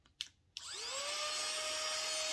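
A small handheld vacuum gadget clicks on after a couple of soft taps and spins up to a steady high-pitched whir as it sucks hair off a couch, quiet and close.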